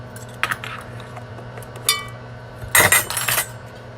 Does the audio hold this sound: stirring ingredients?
yes